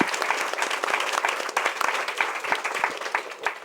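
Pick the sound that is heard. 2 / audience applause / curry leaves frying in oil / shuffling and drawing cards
audience applause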